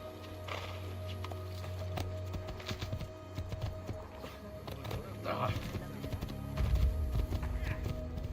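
Horse hooves clip-clop steadily in Assassin's Creed II, with a whinny and other game sounds around them at a moderate, even level.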